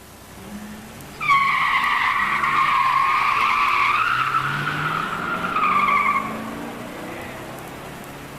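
Tires squeal loudly as drag cars launch, an 1987 Buick Grand National against a 1973 Grand Sport 455 four-speed at a musclecar meet, the shriek holding for about five seconds with engine roar underneath before fading.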